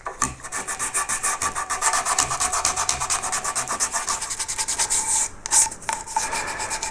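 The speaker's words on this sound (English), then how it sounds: "fine sandpaper. It's actually 320 grit here." A carved wooden bow tie rubbed with fine 320 grit sandpaper, steady rhythmic back-and-forth rasping strokes, close and fairly loud, with no talking.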